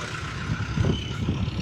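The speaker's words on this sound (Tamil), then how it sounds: "யாழ்ப்பாணம் முருகாத்துறை பஸ் போய் கொண்டிருக்கு பாருங்க." A Jaffna–Murugathurai bus passes on a town street, a low engine rumble swelling briefly and holding steady.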